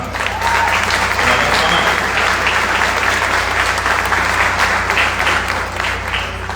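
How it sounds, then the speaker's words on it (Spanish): Audience applause fills a book presentation hall, a dense, steady wash of many hands clapping at close range for the whole stretch without a break. "que pido un aplauso"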